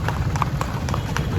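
A mare walking on a road, her hooves clip-clopping in a steady, even rhythm of close, crisp strikes over a constant low rumble.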